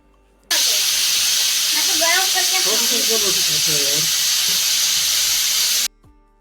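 A pressure cooker with small, short whistles releases a loud, steady hiss of steam that starts and stops abruptly, with a wavering whistle rising through the middle while cooking masoor dal.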